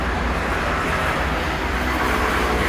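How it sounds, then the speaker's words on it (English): A metro train passes close by, its loud, steady rumble and rolling rail noise filling the whole stretch with no break and no voices. "guess what? Metro."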